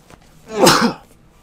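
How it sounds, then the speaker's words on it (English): A single close sneeze, one sharp burst about half a second long, surrounded by quiet, over gameplay of The Binding of Isaac: Rebirth. "Had to sneeze."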